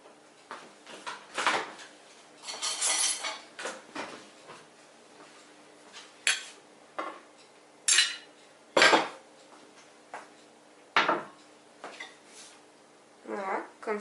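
A spoon spreads bolognese sauce across the bottom of a lasagna dish, giving intermittent scrapes and clinks of utensil on dish at irregular intervals, close and fairly clear.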